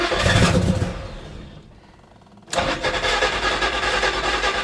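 A 1969 Chevelle SS with a non-stock engine cranks over roughly, goes quiet for about a second, then fires up and settles into a loud, close, rumbling idle.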